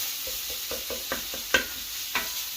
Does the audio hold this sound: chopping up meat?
yes